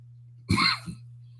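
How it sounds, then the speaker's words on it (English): One short, harsh cough close by, with a small second catch right after, against a low steady hum. "That ain't the corona, that's that wake and bake cough."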